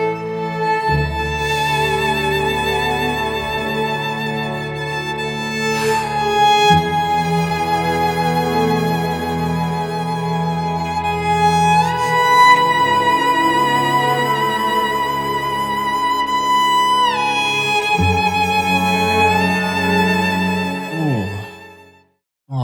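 An orchestral instrumental track plays on its own, sustained layered strings swelling and shifting through chord changes before fading out at the end.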